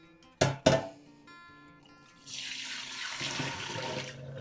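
Two sharp knocks from handling the pot, then cheese curds and whey are poured into a sieve. The liquid gushes and splashes continuously for about two seconds, up close.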